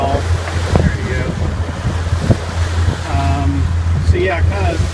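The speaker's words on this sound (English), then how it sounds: "So they're just kind of short, steep waves, which is kind of typical of the Gulf." Short, steep sea waves slap against a sailboat beating upwind through choppy water in the Gulf, a steady wind-buffeted rush with a low rumble running through it and intermittent splashes, while voices talk over the top.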